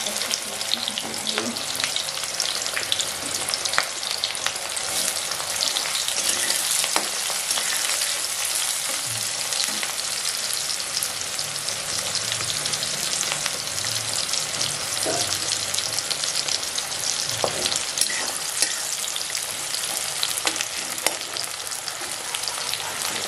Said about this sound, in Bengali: এবার আমি তেলের মধ্যে দিয়ে দিচ্ছি পেঁয়াজ কুচি